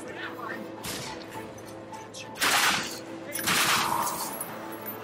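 Gunfire in The Darkness II, a first-person shooter, comes as two loud, dense bursts of rapid shots over steady game sound, with a softer stretch of clatter before them.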